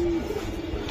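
A racing pigeon gives a short, low cooing call up close, lasting barely a second over soft background noise.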